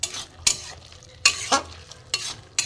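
A spatula scrapes and stirs a dry banana flower and potato curry in a pan, making three or four sharp scraping strokes over a low sizzle, with no talking.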